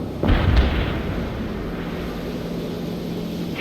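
A heavy tank opens fire on hostiles in the war strategy game World in Conflict, one loud, close cannon boom that rolls into a long low rumble of battle noise.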